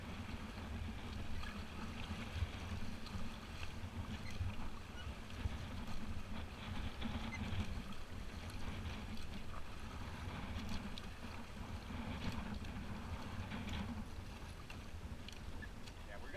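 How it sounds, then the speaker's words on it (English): Water swirls and laps steadily around a small boat as paddles push through a flowing current, with a rushing wash throughout. "Let's paddle forward. Let's go out in the current there."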